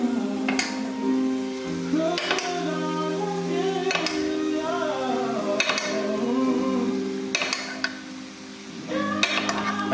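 A spoon scrapes and clinks against a tilted pan as hot butter is basted over a bavette steak, with repeated metallic taps every second or two over a steady sizzle.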